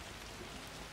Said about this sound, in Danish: nu kommer regn